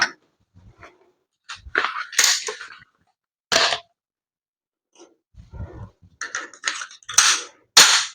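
Cobra Adder crossbow pistol shooting, a series of sharp snapping releases and clacks with quiet gaps between them and some mechanical handling noises close by.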